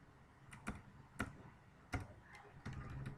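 Quiet typing on a computer keyboard, a few spaced keystrokes at first and then a denser run of taps, close but soft over low background noise.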